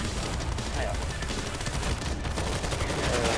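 Rapid bursts of gunfire in World War Z rattle continuously, dense and fairly loud, with muffled game noise underneath.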